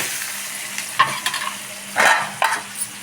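Spices temper in sizzling oil in a pan, a steady sizzle while a spoon scrapes and stirs in a few distinct bursts, with no one talking.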